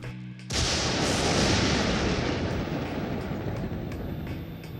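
A lightning spell explosion effect: a sudden massive blast erupts after a brief quiet moment, followed by a sustained roaring, crackling rumble that slowly fades.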